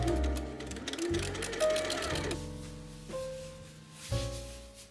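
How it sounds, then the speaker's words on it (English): A home sewing machine runs in bursts while stitching seams on a corset and tunic costume, its motor whir stopping and restarting a few times over soft, close mechanical clatter. "I'll be sewing these seams now"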